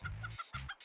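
A chicken in the video game Turbo Dismount clucks in a quick run of short, punchy bursts, close and clear with no talk over it.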